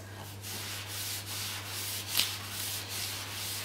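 Wet transfer paper being rubbed by hand during a decoupage transfer onto glittery paint, a steady soft brushing friction with repeated strokes and one brief sharper scrape, faint and close, with no voices.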